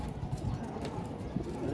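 Pigeons cooing at a loft as it is opened, soft low cooing and bird calls continuing steadily over a constant background murmur.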